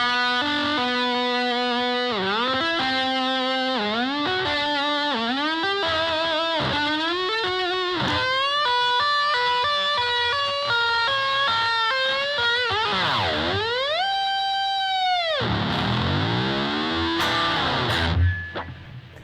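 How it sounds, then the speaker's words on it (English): An electric guitar played through distortion uses its tremolo bar for wild noises: a run of swooping dives and wobbles on sustained notes, a long deep dive-bomb near the end, then a sudden squeal and cutoff. "You can use a tremolo bar for playing single note lines, crazy noises, or even for playing chords."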